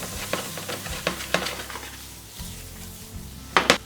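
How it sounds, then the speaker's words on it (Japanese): Food stir-fries in a frying pan over low to medium heat, a soft sizzle broken by irregular scraping and tossing strokes, with a louder clatter of the pan near the end. "炒めていきます。 フライパンでそのまま入れちゃいましょう。"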